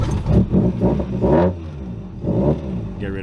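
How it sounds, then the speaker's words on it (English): A Toyota 4AGE engine running very rich is revved in a few quick bursts, rising and falling loudly and close by, with a rough, sputtering idle between revs. "I give it a few revs."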